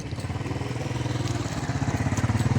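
A motorcycle engine runs nearby with a regular, throbbing beat of exhaust pulses, fairly loud and steady throughout.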